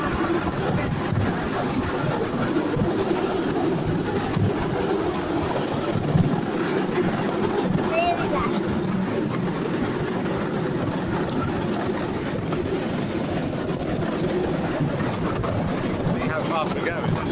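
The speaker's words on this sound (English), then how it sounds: "It's amazing that little train is managing to carry all these people." Small park light railway train carrying about seven passengers, a steady rumbling clatter heard from on board throughout, with people talking over the running noise.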